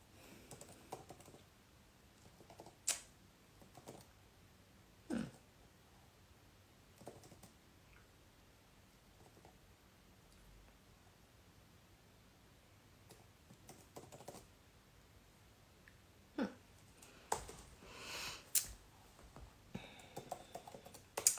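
Quiet, close typing on a computer keyboard, scattered key clicks in short bursts with pauses, growing busier toward the end, with no one talking.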